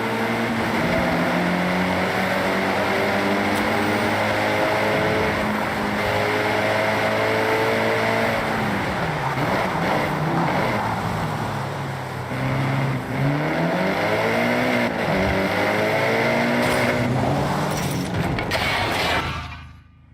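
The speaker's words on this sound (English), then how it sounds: "I'll fit the turbo upgrade with anti-lag." A turbocharged car fitted with anti-lag in the Forza Horizon racing game revs and accelerates through manual gear changes, a loud continuous engine drone that rises and falls with each shift, with turbo chatter and a brief dip midway.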